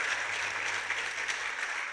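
Sustained audience applause at a university undergraduate research centre event, dense steady clapping from a large crowd filling the whole stretch with no talk over it.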